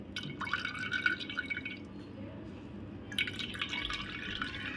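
Pink beetroot solkadhi drips and trickles through a strainer up close, two bursts of liquid pouring and splashing separated by a quieter pause.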